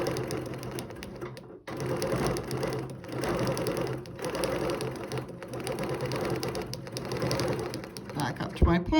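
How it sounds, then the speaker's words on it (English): A sewing machine stitches along a line on a quilt in a fast, continuous whir with brief stops, fairly faint and close. "make sure I'm stitching on the same line, which I am"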